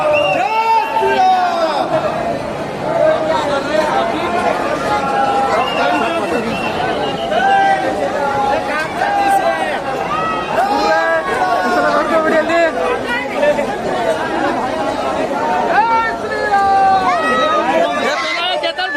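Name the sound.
crowd of pilgrims chattering in Ayodhya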